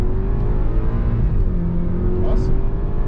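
A 2013 BMW X1 28i with a 2.0-litre turbo engine rated at 245 hp, heard from inside while driving, gives a loud, steady engine drone with a deep rumble and a sustained tonal hum, plus faint cabin noises.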